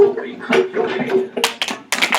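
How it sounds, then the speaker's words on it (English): Children clap their hands at a kindergarten dance, making a few quick bursts of claps near the end. An adult voice talks and sings over the start. "clap your hands."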